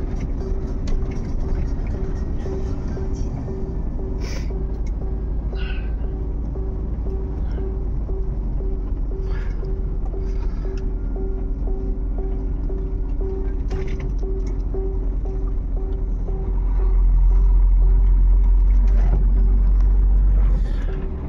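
A car drives along a road at night with a steady low rumble of engine and tyres, close and continuous, growing heavier near the end, with occasional brief voices and clicks inside the cabin.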